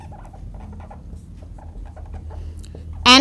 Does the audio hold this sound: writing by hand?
yes